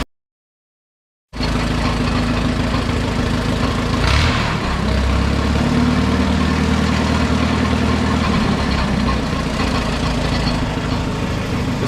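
A tractor engine idles steadily and loudly at close range after a short silent start, a low, even rumble holding through to the end with no talk over it.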